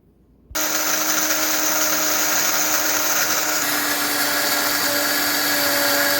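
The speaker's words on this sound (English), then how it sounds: "just put it in your blender, Ninja, Vitamix, whatever, and grind it up to a powder" A Vitamix blender grinds dried corn into cornmeal, starting abruptly after a brief quiet moment and then roaring loudly and steadily with a high motor whine and the rattle of kernels being pulverized.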